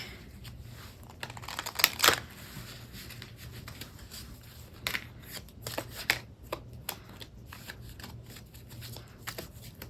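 A deck of Wisdom of the Hidden Realms oracle cards is shuffled close by in quiet surroundings, giving repeated riffling and snapping bursts with soft flicking between them.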